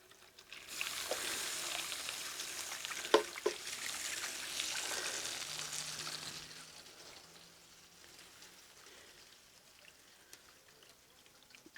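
Liquid flows from a container into a pot of carnitas holding fresh orange and bay leaves, a steady splashing pour lasting about six seconds that then fades into quiet trickles.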